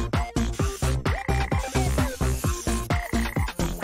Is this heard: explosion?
no